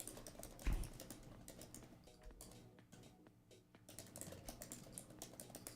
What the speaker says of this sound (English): You were working those keyboard keys back there.